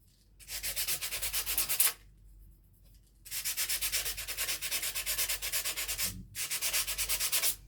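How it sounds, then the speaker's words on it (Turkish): Sandpaper rubs back and forth in quick rhythmic strokes while shaping a homemade incense burner, three bursts of scratchy sanding separated by short pauses, close and clear. "Şurasından azıcık şöyle aşındıracağım zımparayla."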